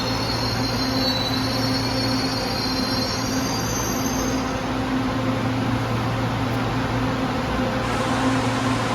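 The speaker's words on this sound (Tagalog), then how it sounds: "LRT." A light rail train runs along its tracks, with a steady loud rumble and rolling drone and a high-pitched wheel squeal that rings continuously before fading out, close by and without talking.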